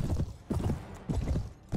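Horse hooves clip-clop in steady, paired beats in Clash of Kings, a Mount & Blade Warband mod video game, close and fairly loud, with a faint whinny in the mix.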